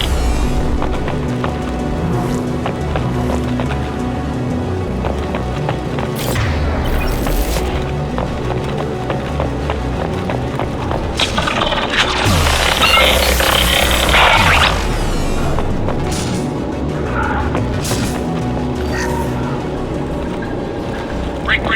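Heavy gunfire and explosions roar through a firefight in the video game Mass Effect 2, a dense, loud, continuous barrage with deep booms and a harsher burst of blasts midway.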